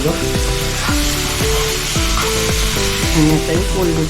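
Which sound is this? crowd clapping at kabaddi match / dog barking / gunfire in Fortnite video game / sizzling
sizzling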